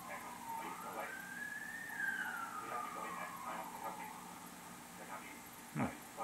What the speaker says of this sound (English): Didn't know there was a police car at that time of day.